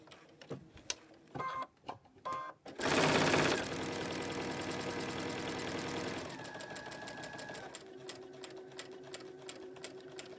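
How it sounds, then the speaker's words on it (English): A sewing machine stitches quilt pieces along a marked solid line, starting with a few short back-stitch bursts and then running in a loud, steady whir before slowing into quieter, rhythmic stitching. "now we're going to sew on the solid line. Do a little back stitch."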